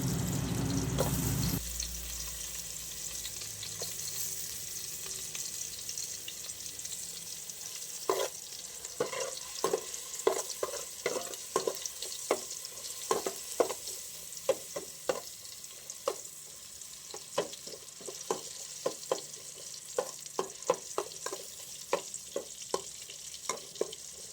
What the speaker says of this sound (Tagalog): Halo-haloin lang natin yan mga lalabs hanggang maging golden brown.